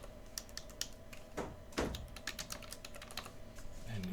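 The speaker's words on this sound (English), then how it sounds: "I can just click there and start typing." Someone types on a computer keyboard while editing product information on a website, giving a steady run of soft, close key clicks with one or two heavier taps partway through and no talk.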